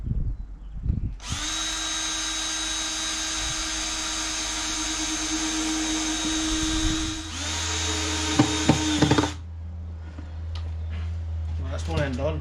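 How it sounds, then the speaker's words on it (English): A power drill bores pilot holes in wood for a five-frame beehive nucleus box, giving one long, loud, steady whine that drops in pitch partway through and then stops, with a few knocks and brief talk after it. "we'll stick some pilot holes in there"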